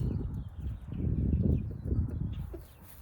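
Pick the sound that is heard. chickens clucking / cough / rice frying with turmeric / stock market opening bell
chickens clucking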